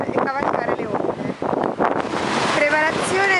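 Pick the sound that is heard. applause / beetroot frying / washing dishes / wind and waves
wind and waves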